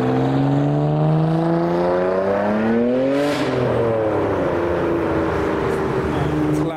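Nissan Skyline R34 accelerating up the road, engine note climbing steadily through the revs, then a gear change and a fresh pull, loud and fairly close with no talk.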